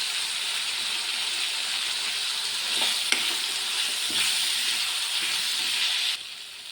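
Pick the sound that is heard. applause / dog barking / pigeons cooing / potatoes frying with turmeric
potatoes frying with turmeric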